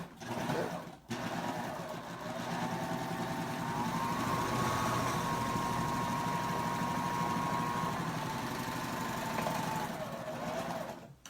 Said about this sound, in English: it's just nice to have a serger to finish it